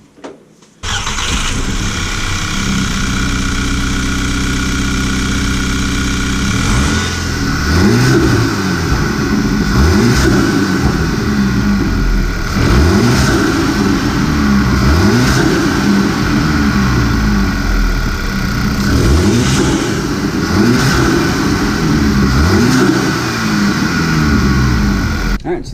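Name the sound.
Mk6 Volkswagen GTI engine revving with Injen intake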